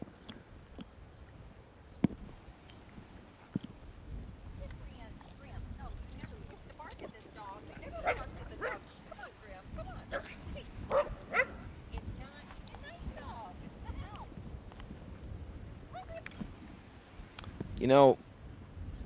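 Small and bigger dogs meeting on a mountain trail give scattered barks and yips, with one louder burst near the end, heard outdoors at moderate distance under ambient noise and people talking.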